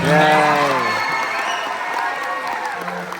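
An audience at a live BFDI tour show in New York City cheers and applauds, with a loud shouted voice at the start over a steady crowd roar that fades slightly.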